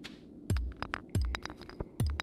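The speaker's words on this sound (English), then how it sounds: "Smashing rocks." Pickaxe smashing rocks while mining in Stardew Valley, three heavy thuds at a steady rhythm, each followed by small clinking and tinkling chips of stone.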